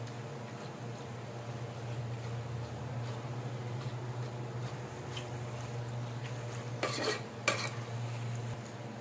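Masala chooda being mixed in hot oil, a soft steady sizzle with spoon scrapes against the pan and a couple of sharper clatters near the end, over a low constant hum, no talking.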